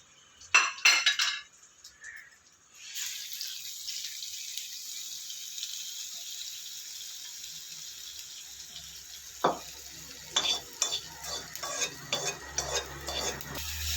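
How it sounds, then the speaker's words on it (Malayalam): A spoon mixes a freshly fried tempering into curd rice in a bowl, starting with a few sharp clinks, then a soft sizzling hiss under wet stirring and scattered spoon taps against the vessel, with no voices. "നമ്മൾ താളിച്ചത് നമ്മൾ മാറ്റി വെച്ച കേർഡ് റൈസിലേക്ക് നമുക്ക് ഇട്ടൊന്ന് ഇളക്കാം"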